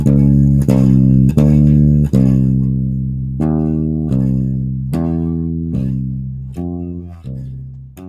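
Sustained tones step upward in a series of musical intervals from unison to the octave, each pair held about a second under a steady drone, loud and clean with no voices.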